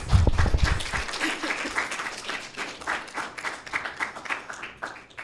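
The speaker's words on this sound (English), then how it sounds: "some applause." Audience applause fills a room at the close of a technical education session on computing principles, steady dense clapping from a modest crowd that carries on evenly, with a thump at the start.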